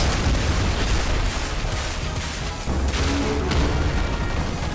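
Assault Slugger shotgun blasts in the Nuclear Throne video game, dense booming bursts one after another, loud and continuous with layered explosive game effects.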